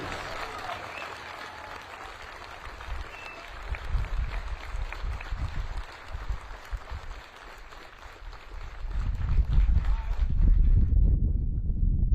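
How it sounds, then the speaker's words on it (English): Applause for exceptional 82nd Airborne paratroopers at a ceremony, beginning as an even crowd patter and then swelling into a louder, heavier round of clapping before cutting off abruptly. "Please join me for a round of applause in recognizing these exceptional paratroopers"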